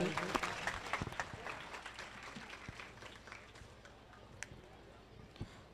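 At a family community gathering, an audience applauds speaker Nimuben with dense, fairly faint clapping that fades out over several seconds, a few late claps trailing at the end.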